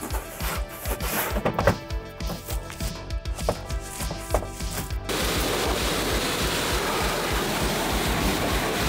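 A soft brush scrubs the wheels of an imported classic car in quick rhythmic strokes, close and fairly loud, then gives way to a steady rushing hiss like rinse water.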